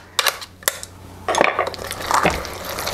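A spoon scrapes and clinks against the metal sides of a food mill full of cooked apple sauce, a few sharp taps followed by longer wet scraping strokes, close and clear.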